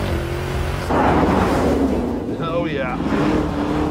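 A Lamborghini Urus with 641 horsepower, driven in Corsa mode, revving hard and accelerating, a loud continuous engine roar that swells partway through with a brief spoken exclamation over it.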